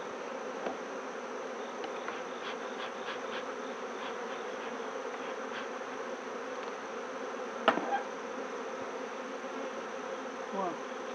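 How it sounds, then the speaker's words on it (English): Honey bees in an apiary hive hum in a steady, dense drone, close and continuous, with a few soft knocks and clicks of hive handling in the background. "Put more bees in there"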